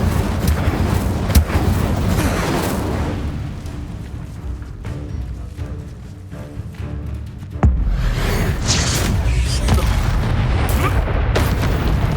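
Incendio fire spell cast in the Hogwarts Legacy video game, a loud booming burst with rumbling fiery roar that sustains, then a second sharp blast hits partway through and the roar continues.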